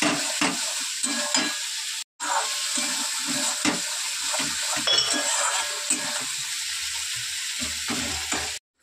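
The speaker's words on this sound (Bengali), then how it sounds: "ভালো করে কষিয়ে নেবো।" Spiced masala paste being stir-fried in oil in a pan, with a steady close sizzle and repeated scraping stirs, a brief dropout near the middle and a short silence at the end.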